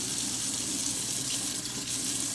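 Steady running tap water splashes into a sink as a small straw item is rinsed beneath it, a continuous close hiss with no talking.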